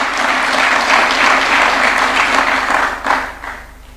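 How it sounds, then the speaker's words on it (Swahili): An audience at a State House gathering with the Nairobi United football club gives sustained, loud applause for the team's assistant captain, a dense, even roar of clapping that tapers off near the end. "Tumpigie makofi akija"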